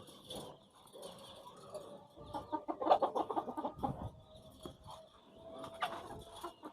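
Native desi chickens cluck and murmur in a small group inside a small cage nearby, with scattered squawks and some background rustling and knocking.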